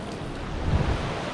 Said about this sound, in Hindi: स्प्रिंग वाटर है यहाँ पर।